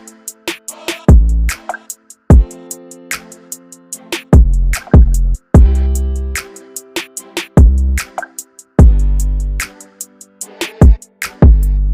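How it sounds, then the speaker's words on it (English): Trap beat with deep, booming 808 bass notes following punchy kicks, loud and sustained in a steady repeating pattern with crisp hats ticking over the top. "After the kick, went straight to the 808."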